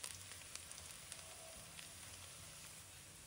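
Red shallots frying in cooking oil in a wok over moderate heat, a faint, steady crackling sizzle with scattered tiny pops, no voices.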